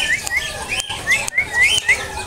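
Several caged songbirds chirp and whistle repeatedly at an Indonesian bird market, including a black-winged sericornis-type 'seri gunting hitam' bird, with quick rising tweets over a busy background of soft market noise.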